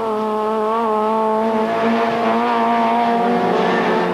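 A Peugeot race car in a 1998 Belgian Procar touring race powers out of a chicane, its engine wailing loudly and climbing steadily in pitch with faint tire squeal.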